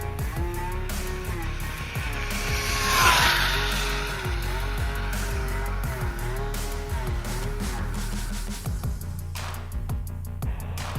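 A GTFans M610 RC car on a 3S pack fishtails on a cold-morning speed run, its tires skidding and squealing over a steady high-pitched motor whine, with one louder swell of tire scrub near the middle.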